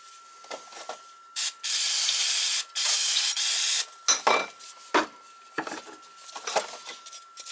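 Carburetor cleaner sprayed onto an oil burner plate during a residential oil burner service, with two long, loud hissing bursts followed by several short spritzes and light clatter of parts.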